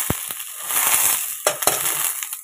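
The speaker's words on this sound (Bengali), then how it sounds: "এবারে আলুগুলো দিয়ে দেবো।" Potato pieces drop into a frying pan with a few sharp clatters and knocks, followed by a soft, brief crackle of oil between them.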